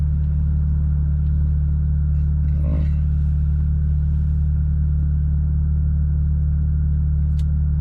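Inside a tuned 500 WHP Audi S3 on a food-delivery run, a steady low engine and road drone hums continuously at cruising pace, with no talk.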